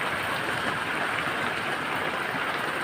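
Heavy rain pours outside a house, a steady, dense hiss and roar of water that stays even and continuous, with no voices.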